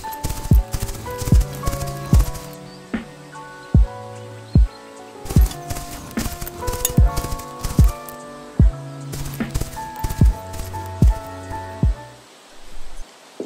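Video game horse hooves clop in quick bursts of sharp thuds, galloping strides over jumps with pauses between, over a soft melodic background; no one speaks.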